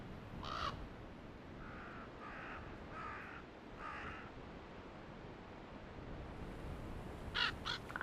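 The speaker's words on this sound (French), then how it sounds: "Chaque matin, au petit jour, arrivent des vagues de grands corbeaux au lever des dortoirs." Common ravens calling at dawn: several hoarse caws at a moderate distance, spaced apart, then a closer cluster near the end, all over a steady rushing wash of wind or surf.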